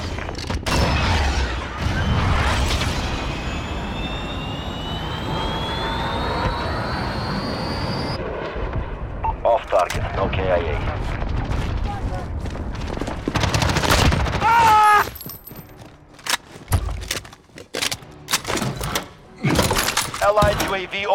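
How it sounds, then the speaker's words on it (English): Cruise missile strike in the Modern Warfare beta, played on PS4 Pro: a long rising jet-like whoosh gives way to loud blasts, rattling gunfire and shattering debris, with radio voices calling out over the chaos. "Cruise missile away."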